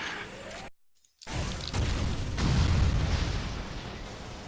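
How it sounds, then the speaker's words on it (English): A deep, rumbling explosion in Metroid: Other M swells after a brief silent gap, followed by a sustained roaring blast of low noise that lingers. "A very satisfying explosion."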